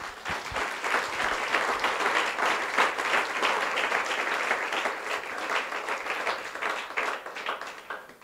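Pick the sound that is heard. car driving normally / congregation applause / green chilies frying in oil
congregation applause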